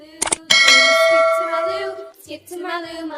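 Bright notification bell ding ringing out loud at the start after a couple of quick taps, its tone sustaining and fading as a children's song melody begins under it.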